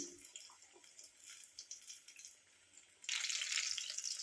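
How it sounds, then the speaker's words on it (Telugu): Mirchi and onion bajji batter fries in hot oil, a soft crackling sizzle that jumps suddenly louder and brighter partway through as more pieces are dropped in, then holds a dense, steady hiss. "బజ్జీ అయితే ఇలా వేసుకోవాలి నేనైతే వేసుకుంటున్నాను"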